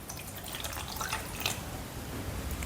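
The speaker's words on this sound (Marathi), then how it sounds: "याच्यामध्ये थोडंसं पाणी टाकूया आपण." Water is poured into a cooking pot over two tomatoes and two onions for a vegetable gravy, giving a soft, brief splash and trickle that rises for a moment, then settles into quiet background hiss.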